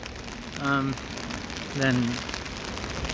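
Rain falls steadily outdoors, a constant close patter running underneath while a person speaks a couple of brief phrases over it.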